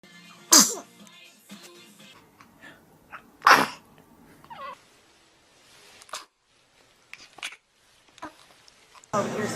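An infant lets out two sharp sneezes several seconds apart, each standing out clearly. Soft breaths and small vocal sounds fill the quiet between them, and a loud burst comes at the end.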